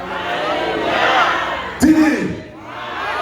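A church congregation shouts Alleluia together in a loud, brief burst of crowd voices over a steady wash of murmuring and noise, then the sound drops away.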